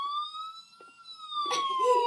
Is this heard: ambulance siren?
yes